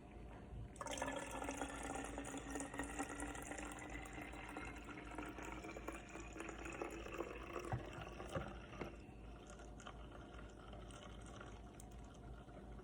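Water pours steadily into a bottle, a continuous gurgling fill heard up close, with the pitch slowly rising before the flow stops near the end.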